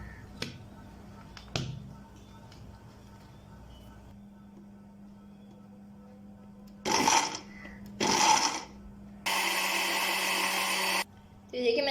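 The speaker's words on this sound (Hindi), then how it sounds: "आप इसको ब्लेंड कर लेंगे" A kitchen blender whirs through strawberry ice cream mixture with milk in short bursts, two quick pulses and then one longer steady run, loud and close. Before the blending there are a few faint clicks and taps.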